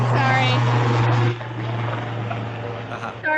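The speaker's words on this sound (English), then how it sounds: "It's a random helicopter." A helicopter passing overhead gives a steady low droning hum throughout, heard beneath a person speaking indoors.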